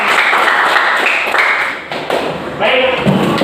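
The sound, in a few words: class clapping hands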